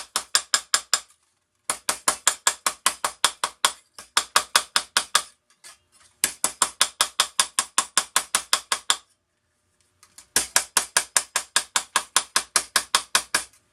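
Sheet metal is hammered on a small anvil made from scrap channel iron: close, loud bursts of rapid, evenly spaced metallic blows separated by brief pauses.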